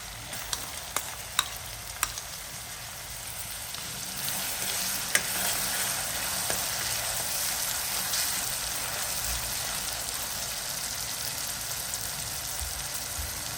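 Onion, ginger-garlic paste and asafoetida fry in hot oil for sev usal, giving a steady, close sizzle that runs the whole way with a few sharp clicks of stirring near the start and no talking.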